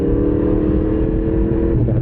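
Yamaha MT-10SP crossplane inline-four motorcycle engine pulling hard while overtaking, a loud, dense, steady low drone with rising tone throughout, heard close and alone.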